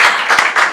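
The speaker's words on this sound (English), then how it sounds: "can we have a huge round of applause?" An audience at a book launch and panel discussion claps in a short, dense burst of applause.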